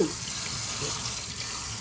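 Water from a hose streams steadily while a dog is rinsed at a dog groomer's, a continuous close hiss that stays even throughout.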